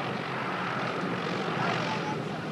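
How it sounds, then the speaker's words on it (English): A World War II B-24 bomber arriving at an airport, its engines a steady, broad droning roar that holds level throughout without pause. "wept when he saw his old B-24 bomber come in today"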